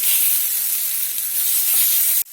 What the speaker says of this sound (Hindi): टमाटर डालेंगे, बारीक कटा हुआ। पाँच मिनट तक धीमी आंच पे भून लेंगे।